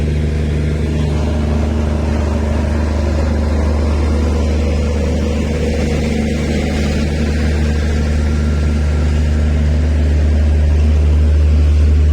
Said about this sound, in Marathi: जनरेटर यान